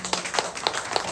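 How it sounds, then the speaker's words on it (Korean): Short burst of clapping for children at a church Sunday service, a handful of claps in loose rhythm from a small group, moderately close, brief. "우리 아이들 박수 한번 쳐줘요"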